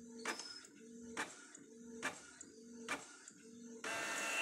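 Canon MP287 inkjet printer running normally after repair, with a steady series of mechanical print-head passes and clunks about once a second, ending in a louder whirring feed.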